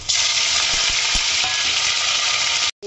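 Fenugreek seeds, red chillies, garlic and curry leaves frying in hot oil in a pan, a loud, steady close sizzle with small spits and crackles throughout, briefly cut off near the end.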